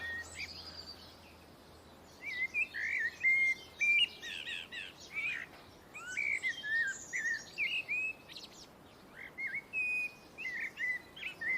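Birds sing in a midsummer garden, a lively run of chirps, whistles and short warbled phrases from several birds, fairly close and clear over quiet background, with no talking.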